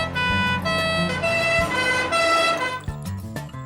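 Ambulance siren in a French cartoon, a rising and falling electronic wail that stays loud and steady across the whole short stretch with no voices over it.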